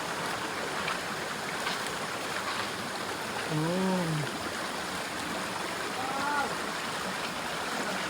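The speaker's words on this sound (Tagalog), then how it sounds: "Ayan yung falls. Ayan na yung falls!" Kawa Falls, a waterfall in a forest, sends out a steady broadband rush of falling water throughout, with faint bird calls over it and no talking.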